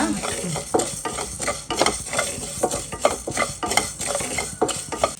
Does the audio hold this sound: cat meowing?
no